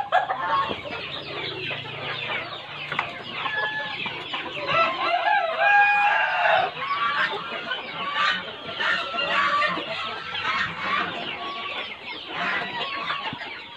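Hens clucking and a rooster crowing at a poultry farm raising native chickens, a dense, continuous chorus of overlapping calls with crowing bursts rising above around the middle.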